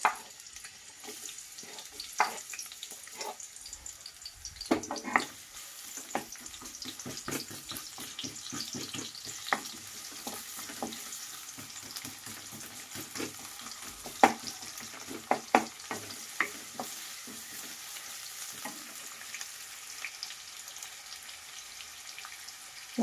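Chopped onion fries in hot oil for fried rice, a soft, steady sizzle with scattered crackles and pops and occasional stirring scrapes, fairly quiet and close, with no talking.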